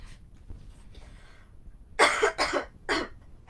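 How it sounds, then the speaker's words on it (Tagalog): A singer busking live coughs three times in close succession, loud and near, after a quiet stretch of faint background murmur. "Malas ko, may ubo ako."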